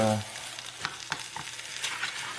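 Corned beef hash with potatoes frying in a pan, stirred with a few distinct scraping strokes over a steady close sizzle.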